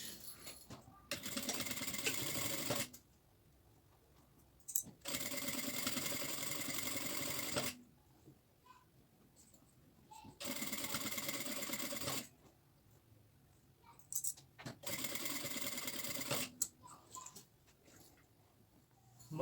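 A domestic sewing machine stitches seams on a fabric backpack in four separate bursts of steady whirring, each a few seconds long, with quiet pauses between runs and no speech.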